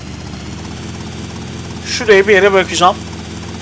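A helicopter engine in the video game GTA Vice City gives a steady, low droning hum throughout, and a voice talks over it near the end.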